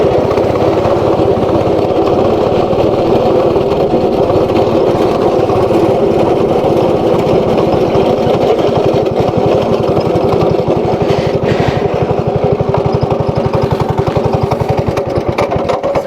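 An ATV engine runs steadily close by at a ride spot in Yelagiri, a loud continuous buzzing drone with a rapid rhythmic putter, without talk.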